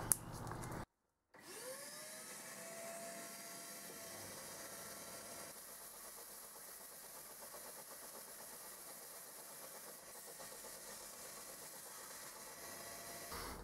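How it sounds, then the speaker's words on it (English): A belt sander grinds against a metal workpiece with a steady, whooshing motor hiss and abrasive rasp, starting after a brief gap and running continuously at moderate level. "belt sander time"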